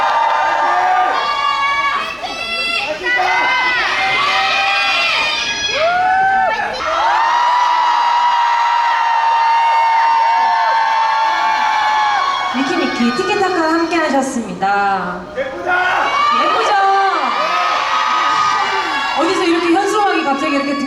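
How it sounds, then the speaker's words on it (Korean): A concert audience at an autumn radio-show concert cheers loudly and steadily, with shouts and whoops throughout and an emcee talking over the crowd. "네, 크게 환호해주세요."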